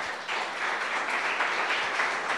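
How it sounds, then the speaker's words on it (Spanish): Church congregation applauding together, a dense continuous clatter of many hands that holds steady and fairly close for a couple of seconds. "Usted puede darle un fuerte aplauso al Señor."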